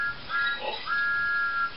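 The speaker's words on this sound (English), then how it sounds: "he blew his whistle louder than ever." Thomas the Tank Engine's steam whistle blows in a few clear, high, sustained toots, broken by short gaps and rising louder in bursts, with nothing else around it.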